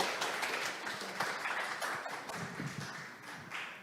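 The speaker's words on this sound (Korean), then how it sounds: "큰 박수로 맞이해 주십시오." Audience applause at a lecture event, welcoming a KAIST electrical engineering professor to the stage; a dense, steady wash of clapping from a hall crowd, continuous for the whole stretch.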